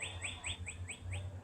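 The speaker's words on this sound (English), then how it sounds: "you can hear the birds chirping" Small birds chirp outdoors in a quick, regular series of bright repeated tweets at moderate distance, set over a low background hum with no talking.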